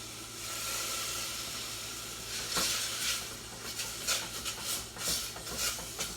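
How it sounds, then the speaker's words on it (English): Plant milk whisked bit by bit into a kohlrabi stew, giving a steady close stirring and scraping hiss with quick sharper whisk strokes in the later seconds, no voices. "whisk in bit by bit"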